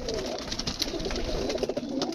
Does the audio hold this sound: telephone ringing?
no